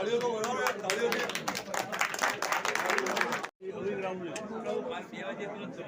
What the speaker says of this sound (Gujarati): તાળીઓ તો બનાવો યાર, તાળીઓથી.